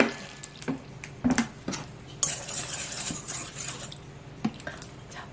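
Water poured into a bowl of cabbage pancake batter made with egg and a pinch of salt, a soft steady splashing wash with light spoon and bowl clinks scattered throughout, close and moderately quiet.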